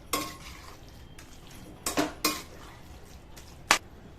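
A spoon stirs fried ingredients into paneer biryani in a pot, with a few sharp metallic clinks and scrapes against the pot amid soft, quiet mixing.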